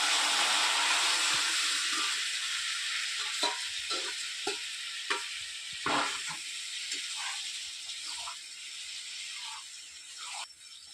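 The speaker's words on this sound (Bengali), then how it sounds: "মশলা থেকে তেল ছেড়ে দিয়েছে এবার আমি তরকারিটা ঢেলে দিই" Lau ghonto curry hits hot spiced oil with a loud initial sizzle that settles into steady hissing frying, broken by a series of short stirring scrapes and clicks.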